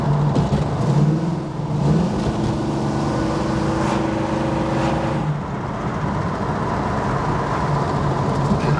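A 1973 Plymouth 'Cuda's engine drones steadily and loudly under acceleration, with a rising tone through the first five seconds before it settles into a sustained roar.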